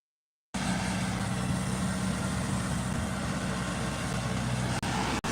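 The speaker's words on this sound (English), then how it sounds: "there's a tractor that collects seaweed." A seaweed-collecting tractor works on a beach in the Dominican Republic, its engine a steady, loud, low rumble that runs continuously after a brief silent start, with a couple of short dropouts near the end.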